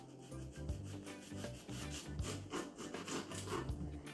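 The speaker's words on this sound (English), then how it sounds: "So we're gonna cut our onions in rings." A knife cuts onions into rings for Jamaican escovitch fish, making quiet, rhythmic sawing and scraping strokes against the board at a steady pace.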